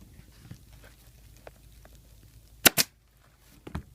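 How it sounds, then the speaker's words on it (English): A staple gun fires into a motorcycle seat cover at the seam during a Seat Concepts XR650L seat install, two sharp close snaps in quick succession, then a softer third hit over quiet handling noise. "Put a staple in right at the seam and do the same for the next side."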